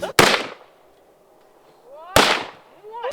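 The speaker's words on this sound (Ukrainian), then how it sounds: "постріли, і мішень повалилась" Two sharp gunshots about two seconds apart at a shooting range, each with a bright burst and a short ringing tail, with quiet between and a third crack at the end.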